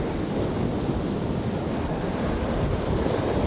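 Waves wash in at the water's edge in a steady, close, rushing hiss with faint wind and no voices.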